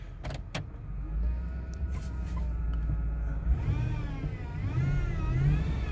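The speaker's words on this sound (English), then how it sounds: "Just revving in reverse. So that's a good sign that your transmission's having a problem." A car engine revs in reverse while the transmission is failing, rising and falling in pitch with rising whines and no forward movement, heard close and fairly quiet with nobody speaking.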